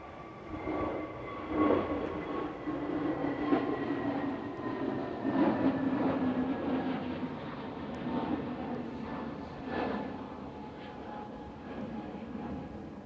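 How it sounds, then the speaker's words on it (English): At Manchester Airport, a propeller aircraft taxis across the far side of the field with a steady, distant droning hum and faint tonal whine that swells gently and fades over a broad rumble. "can hear another prop pootling down over the other side of the airport"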